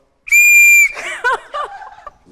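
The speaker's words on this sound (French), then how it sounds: "On va siffler pour marquer le début." One sharp, steady whistle blast rings out for about half a second to mark a start, followed by voices laughing and reacting.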